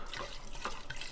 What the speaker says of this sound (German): Ich fülle das jetzt mal in die Bowl ein und dann rauchen wir damit mal